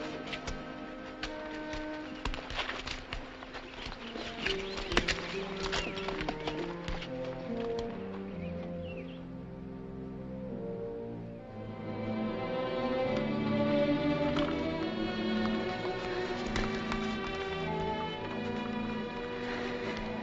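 Horses' hooves clip-clop in a steady rhythm beneath orchestral film music, moderately close but partly masked by the score.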